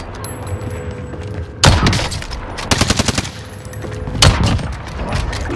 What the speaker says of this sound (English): Shooting at me from blue house at one point.